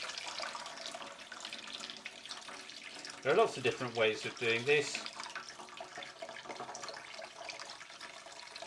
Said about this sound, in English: I'm just cupping my hand and spinning the egg under the jet of water from the tap